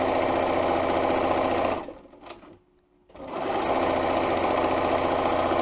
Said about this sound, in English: So I'm just going to sew along here.